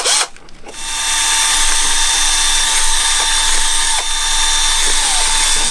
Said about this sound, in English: We're drilling some bigger holes here, so we're going to have to get the big boy tools out.